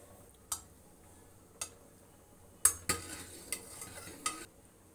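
Malai cream heating in a pan as it cooks down into homemade ghee, stirred repeatedly, with quiet bubbling under sharp scraping and tapping strikes of a spoon against the metal pan at irregular intervals.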